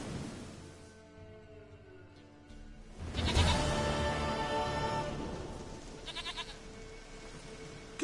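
A goat in a video game bleats in a long, wavering cry, then gives a second, shorter bleat; the sound is fairly close and clear over a low background hum.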